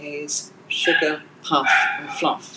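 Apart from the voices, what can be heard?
dog barking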